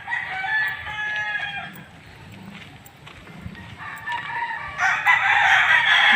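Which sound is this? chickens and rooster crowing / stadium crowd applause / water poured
chickens and rooster crowing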